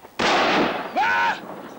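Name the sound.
gunfire in a film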